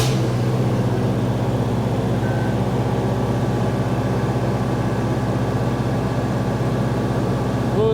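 Bobcat 542B skid steer loader engine running steadily and loud throughout, a continuous low rumble with a dense mechanical drone and no clear pauses.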